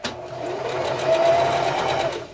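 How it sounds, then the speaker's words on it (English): A sewing machine runs steadily while chain-piecing quilt strips for a beginner baby quilt, a continuous close motor whir with rapid needle chatter, heard alone for a couple of seconds. "you continue your production sewing down to the end and connecting to the next strip at the end"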